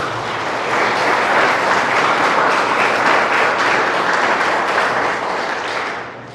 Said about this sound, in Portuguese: Podemos aplaudir a sabedoria de Deus?